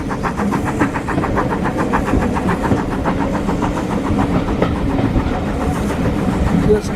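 West Somerset Railway heritage train pulling into Washford station, a steady rhythmic clatter of wheels over rail joints under a constant engine rumble, close and fairly loud throughout.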